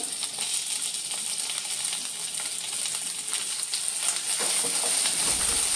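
Diced capsicum and onion fry in a pan over low gas, a steady, bright sizzle that carries on without a break and grows slightly louder and fuller toward the end, with no voices.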